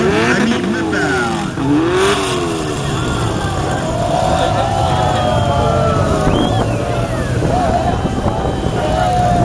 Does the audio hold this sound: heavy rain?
no